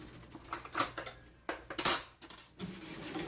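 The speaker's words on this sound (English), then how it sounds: "you're going to have to scoop out you a cup of the pie filling" A utensil scoops peach pie filling, making a few quick metallic clinks and scrapes in short separated bursts, with quiet pauses between them.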